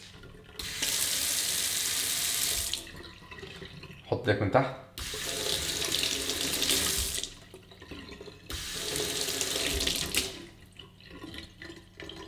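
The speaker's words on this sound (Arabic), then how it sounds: "خلينا بس الاول نشغل الحنفية" A sensor-activated water faucet runs into a sink in three separate bursts, each a steady hiss of a few seconds cut off by brief gaps, with a person speaking briefly between bursts.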